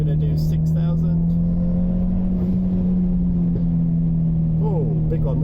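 A Ford Puma ST180 fitted with a Peron Stage 2 Pro exhaust revs and holds near 5,000 rpm, a steady loud drone heard from inside the car with the window down, with a faint pop toward the end.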